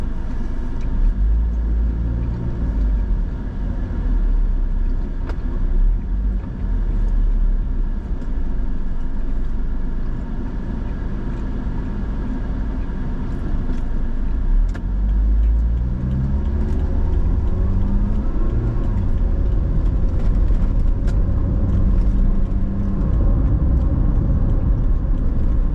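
From inside a car on a road in Kuching, Sarawak, a steady engine and tyre rumble runs the whole time as the car drives through a roundabout, with a few slight shifts in pitch.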